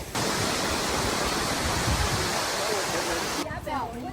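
A waterfall at Waterfall Park in Taipei gives a loud, steady broadband rush of falling water for most of the clip, then cuts off abruptly near the end.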